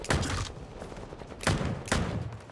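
Bursts of automatic gunfire in the video game Bloodhunt, three rapid volleys separated by short pauses, moderately loud with no talk.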